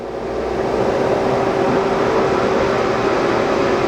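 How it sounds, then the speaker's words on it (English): The spindle of a YOU JI YV-500EL vertical turning center runs at about 100 RPM in high range, making a steady, even machine drone with a faint constant hum that never changes level. "Right now you're in a high range. It's about 100 RPM."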